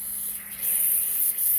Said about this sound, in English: when you spray it into the holes for those needles we took out